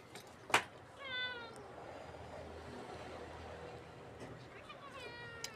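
A house cat gives a few short meows near the start and again near the end, close by, over a faint background hiss in a home kitchen.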